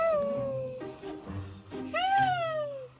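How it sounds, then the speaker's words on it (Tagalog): A Persian cat lets out two long, drawn-out wailing cries with sliding pitch, close and fairly loud, sounding oddly like a voice. "Pero yan ay tunog pala ng pusa."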